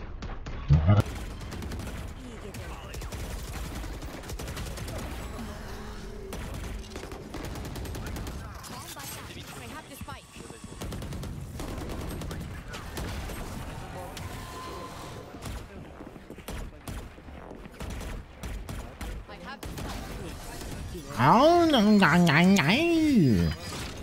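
Gunfire in the video game Valorant, scattered sharp shots and short bursts under a player's voice, with a louder burst of shooting near the end.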